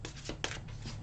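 Tarot cards riffle and slap together in a quick close-up shuffle, a few soft papery bursts in just over a second, quiet with no voice.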